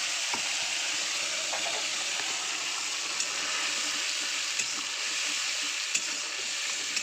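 A tomato and onion paste fries in hot tempered oil, giving a dense, even, close sizzle that holds steady throughout with a few faint clinks and no talking.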